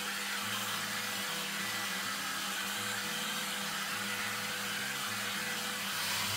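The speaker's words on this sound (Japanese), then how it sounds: "残りも全部乾かしていきます。" A hair dryer blows in a continuous, loud, steady whoosh with an even motor hum while drying hair, close and uninterrupted with no talk.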